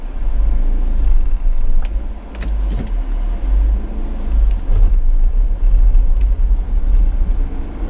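A car jolts along a rough country road on a hot August day, with a continuous low engine and tyre rumble broken by thumps, rattles and jangling as it bounces, fairly loud and close, with no talking.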